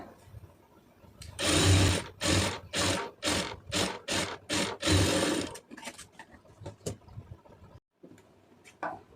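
Sewing machine stitching an Aari blouse neck piece: loud close bursts of rapid mechanical clatter in several quick runs, then slower, lighter ticks and a brief pause near the end.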